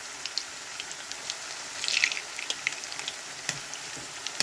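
Green plantains fry in hot oil with a soft, steady crackle of small pops and sizzles that swells briefly, close and fairly quiet, with no voices.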